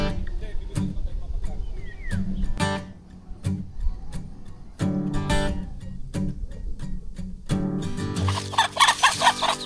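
Chickens and chicks on a farm cluck and cackle repeatedly in short bursts, close by, with people talking over them and a louder flurry of agitated clucking near the end.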